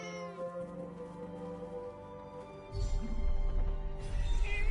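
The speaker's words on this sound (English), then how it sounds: "A cat." A cat meows repeatedly in the video game Forspoken, its drawn-out, tonal cries fairly close and clear over a steady game ambience that grows louder and rumbling toward the end.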